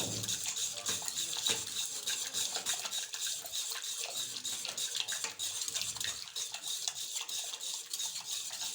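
A spoon stirring and mashing boiled mixed chana and moong dal in a pot, a continuous wet scraping and squelching with soft metallic clinks, close and quiet, no voices.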